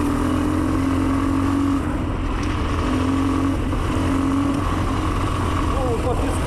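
An Exdrive Tekken 250cc motorcycle rides through forest and sand, its engine droning steadily at close range with slight throttle swells, while a rider's voice talks over the noise.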